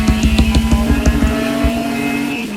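A race car in the Copa Petrobras de Marcas racing game drives hard with loud, steady engine drone, and a burst of rapid rhythmic pulses early on as the brakes lock up.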